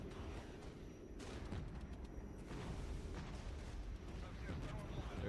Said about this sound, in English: Here comes our bombing run.